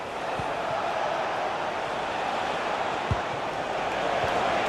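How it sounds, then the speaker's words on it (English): A stadium crowd in the FC 26 football video game keeps up a steady, dense roar throughout, with a few faint thumps underneath. "just listen to this crowd"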